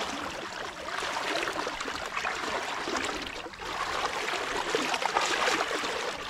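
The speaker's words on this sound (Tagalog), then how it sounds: "Lakas ng agos mga idol ng ilog." Strong river current rushing steadily along a riverbank during crab hunting, a broad continuous wash of water that stays loud and close throughout with no speech.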